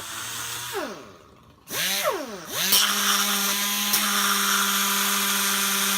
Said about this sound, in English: I'll just grind on it for a while until I get it shaped out roughly